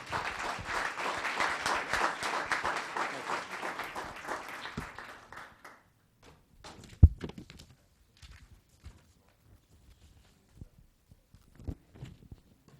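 Audience applause fills a town council meeting in Los Gatos, a dense, steady round of clapping for about five seconds that fades out, followed by quiet room noise, a loud thump and scattered small knocks.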